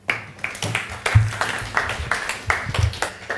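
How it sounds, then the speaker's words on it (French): An audience at a conference presentation applauds, a sustained patter of many hands clapping at moderate distance for a few seconds. "Vous pouvez l'applaudir."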